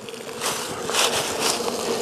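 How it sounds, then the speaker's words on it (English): A dense swarm of honeybees buzzes loudly and continuously close by around a hive with its top removed, the droning hum swelling and fading slightly. "The bees are a little bit louder now that I've taken the top off"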